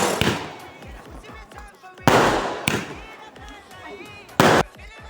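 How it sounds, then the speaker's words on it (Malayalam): A New Year set of thirty firecrackers goes off in several sharp, loud, booming bursts spread across the moment, with crackling between the big blasts and voices in the background. "30 പടക്കമാണ് ഒരു സെറ്റ് ഇരുന്നാണ് പറഞ്ഞത്"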